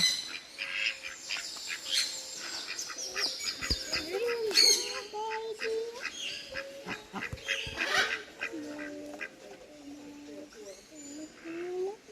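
Ducks and geese at a Barbados site call together nearby, a busy stream of honks, quacks and squawks in irregular bursts, with people talking faintly in the background.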